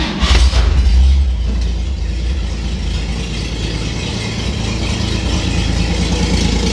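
A 1959 Chevy Apache truck engine idles close by with a deep steady rumble and light mechanical rattle, louder for the first second before settling into an even idle, with no one speaking.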